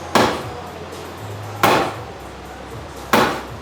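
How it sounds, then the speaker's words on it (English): Hammer blows on a dented car quarter panel, three loud, sharp strikes spaced about a second and a half apart, each ringing briefly before fading, with no voices. "the more I hammer this out and pry this out"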